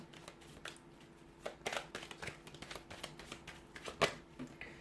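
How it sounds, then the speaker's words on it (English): Soft rapid riffling and tapping of tarot cards being shuffled, faint and close, with irregular clicks and flutters over a quiet hum. "we'll give the cards a shuffle"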